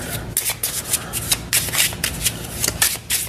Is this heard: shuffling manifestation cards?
yes